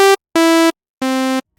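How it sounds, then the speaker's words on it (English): A synthesizer oscillator plays a sawtooth wave in three separate, buzzy sustained notes, each about a third of a second long. The notes are loud and clean with brief silences between them, and the pitch steps slightly downward across them. "I've loaded the sawtooth wave, which is very characteristically buzzy and kind of gritty."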